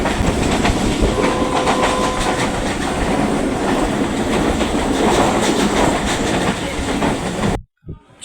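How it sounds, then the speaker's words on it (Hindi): A passenger train runs fast on its rails with a loud, steady rumble and rhythmic clickety-clack of the wheels, heard close from inside the carriage, before the sound cuts off abruptly near the end. "शुक्र है ट्रेन की स्पीड जो है कुछ तेज़ हुई है"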